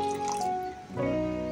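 Water poured from a tap into a cooking pot holding sliced banana heart, a short close splashing fill with dripping, no talk.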